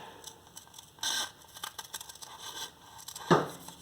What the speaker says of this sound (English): I'm going to begin by cutting out the gray shaded areas